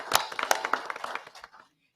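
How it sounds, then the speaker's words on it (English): A small group at a commission meeting claps briefly, a few distinct nearby hand claps over under two seconds that thin out and stop, leaving silence. "If you would join me in a round of applause for all that Publix has done for our community."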